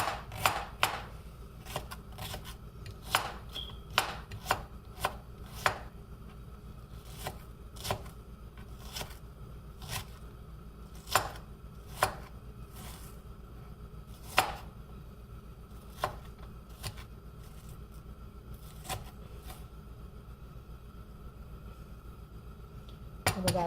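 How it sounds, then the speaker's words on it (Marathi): A knife chops an onion finely on a board while preparing tomato-potato rassa bhaji, giving a close, irregular run of sharp, crisp strikes with short pauses between bursts and no talking. "कांदा कसाही तुम्ही कापू शकता"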